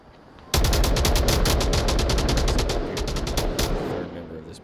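Sustained automatic gunfire fills a tactical team shooter match, a loud, rapid string of close shots that runs almost without pause for about four seconds after a quieter opening, with faint voices beneath.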